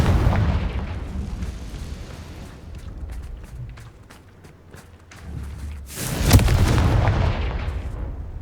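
A Confringo fire spell explodes in the Hogwarts Legacy video game, with a sharp, loud burst near the end that rings out over a rumbling, crackling battle din of smaller pops and booms.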